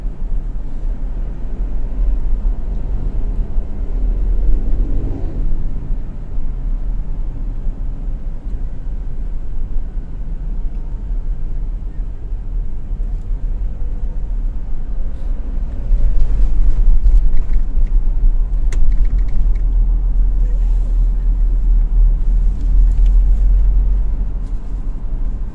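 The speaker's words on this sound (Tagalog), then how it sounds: "bibilis ang mga sasakyan dito." Road traffic on a fast stretch of road in Antipolo, heard as a steady low rumble of vehicle noise that swells louder as cars pass around the middle and later part, with no talking.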